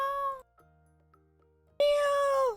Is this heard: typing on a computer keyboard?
no